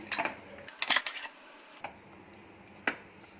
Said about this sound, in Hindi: कुकर का प्रेशर कम हो गया, अब इसे खोलते हैं।